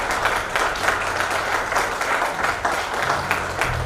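A seminar audience claps steadily throughout, a dense rattle of many hands filling the room, with a low hum and a few voices underneath.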